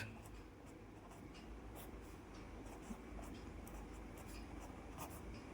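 Pen or pencil scratching steadily on paper while a Class 6 maths exercise is written out by hand, a close, continuous soft rasp with small strokes and no pauses.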